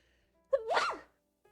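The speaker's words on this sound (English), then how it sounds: "Oh goodness, I have to sneeze again." One close sneeze with a quick voiced intake and explosive release, alone in otherwise quiet surroundings.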